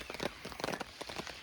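Rain pattering steadily on a woodland camp, a close, faint, continuous crackle of drops on surfaces with no voices.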